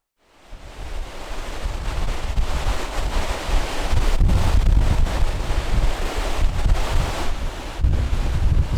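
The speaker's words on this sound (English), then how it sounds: "the wind had picked up and showed no signs of easing" Strong wind blows across a mountainside on Mallorca at night, a loud continuous rushing roar with gusts buffeting the microphone, rising after a quiet start and holding steady throughout.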